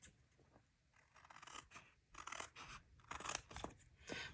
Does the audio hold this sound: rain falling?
no